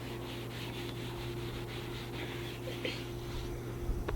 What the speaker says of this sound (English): if you're using a chalkboard or a whiteboard, you can erase it